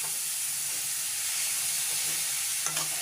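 A cabbage and beetroot stir-fry is stirred in a hot pan with a continuous hissing sizzle, a few scraping strokes near the end, and no talking.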